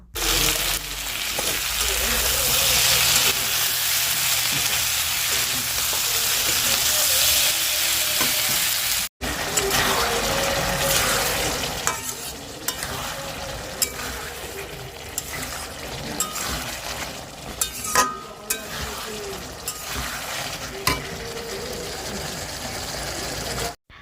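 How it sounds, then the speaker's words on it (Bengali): Meat sizzles in a pan with browned fried onions for a home-cooked curry, a steady fry at first, then stirring scrapes and sharper sizzles running throughout, with a voice talking faintly at times. "পেঁয়াজটা ভালো করে ভাজা হয়ে গিয়েছে এবারে মাংসটা আমি দিয়ে দিলাম মাংসটা ভেজে নিয়ে"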